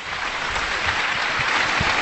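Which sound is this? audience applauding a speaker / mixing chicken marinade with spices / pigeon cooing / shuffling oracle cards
audience applauding a speaker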